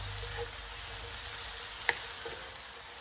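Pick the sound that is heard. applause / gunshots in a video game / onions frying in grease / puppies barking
onions frying in grease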